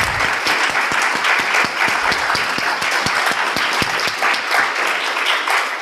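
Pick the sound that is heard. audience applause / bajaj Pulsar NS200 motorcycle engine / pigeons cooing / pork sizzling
audience applause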